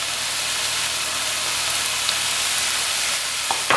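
Ground meat browning in a pan with Italian seasoning, black pepper and pink salt, giving a steady, loud, close sizzle with faint stirring scrapes, no voices.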